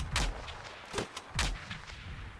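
A building is fragged in a video game, setting off deep, booming explosions: three heavy blasts with shorter cracks between them, all in quick succession and with no talk.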